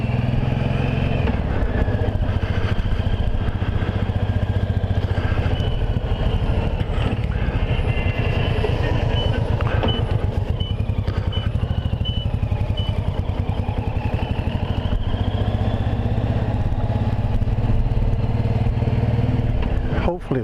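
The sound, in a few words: Suzuki VLR 1800 Intruder motorcycle riding through a tunnel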